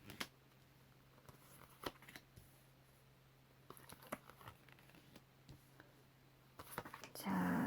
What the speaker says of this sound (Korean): 셔플 해보겠습니다.